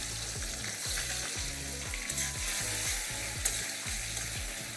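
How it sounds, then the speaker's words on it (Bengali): Steady, close sizzling of onion frying in a hot pan, a continuous crackling hiss with a few sharper pops, no voices. "পেঁয়াজটা ভাজা হোক"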